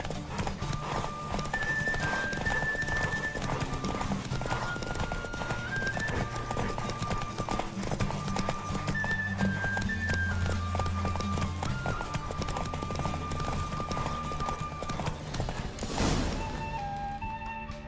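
Hoofbeats of a horse galloping in The Witcher 3, a steady clip-clop rhythm that runs on under a game music score with an occasional whinny and some talk, ending with a heavy thud near the close.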